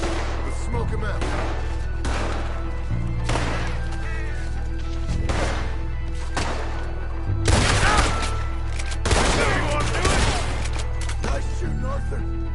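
Gunfight in Red Dead Redemption 2, with scattered gunshots and crashing impacts spread through a steady background, two louder bursts near the end.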